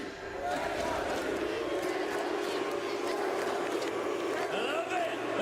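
An arena crowd at a Valorant esports final in Paris chants for NRG, a loud, continuous wall of massed voices echoing through the venue with rhythmic swells.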